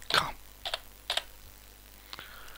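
A website address is typed on a computer keyboard in a few quick bursts of crisp key clicks separated by short pauses, close and fairly quiet, with no talk.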